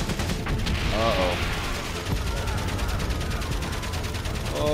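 Gunfire in the video game Valiant Hearts, a dense rattle of rapid shots and mechanical clatter running continuously and loudly, with a few brief vocal sounds over it.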